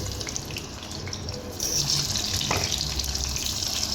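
Tap water runs steadily into a kitchen sink while vegetables for baingan bharta are washed, with a brief splash partway through and a stronger gush in the second half.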